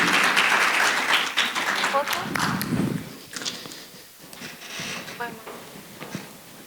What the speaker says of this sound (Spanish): Así que lo recibimos con un fuerte y caluroso aplauso a don Alberto Escobar.